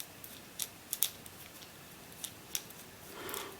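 Small plastic fidget cube parts click faintly in a quiet room, with a few sharp, scattered clicks close together at first, then sparser clicks and a soft rustle at the end.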